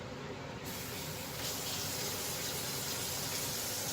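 Hot water pouring steadily into a pan for enchilada gravy, a continuous hissing, splashing gush that stays loud and close for several seconds with no talking.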